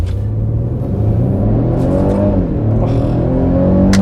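A Mercedes-Benz E350 with EQ Boost revs up from idle with a loud, close engine drone whose pitch climbs gradually, with a slight delay before the turbo builds, and no talking.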